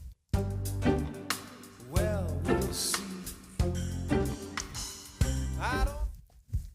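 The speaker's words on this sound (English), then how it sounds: "The next section of the verse we're gonna look at is the integration of splash cymbals." Drum kit playing a verse groove, with crisp splash cymbal hits layered over kick, snare and hi-hat patterns alongside the band track, loud and close.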